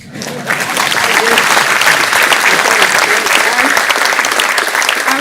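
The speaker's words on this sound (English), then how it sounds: "Applause" An audience at the IHE Delft alumni award ceremony breaks into applause, a loud, sustained wash of many hands clapping that swells quickly after a brief quiet start and stays full to the end.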